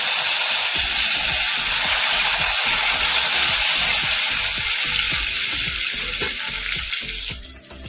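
Loud, steady sizzle of curry leaves frying in hot tempering oil, crackling continuously with rapid spitting pops underneath.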